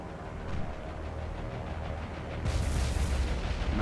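Bombs detonate against a ship's midsection in an aerial attack video game, a rumbling, booming barrage that swells louder and heavier in the final second and a half.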